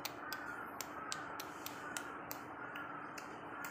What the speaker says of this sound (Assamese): তাৰপৰা কাউৰীটোৱে কেনেকৈ মাতিছে